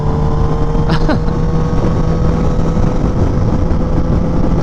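Kawasaki ZX10R motorcycle with a loud SC-Project exhaust, its engine droning steadily and close with a constant harmonic tone and a couple of quick rev blips near the start.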